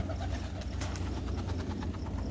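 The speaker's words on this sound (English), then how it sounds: "one of those pigeons" Pigeons coo softly in a low, repeated murmur behind a steady background rumble, with no talking.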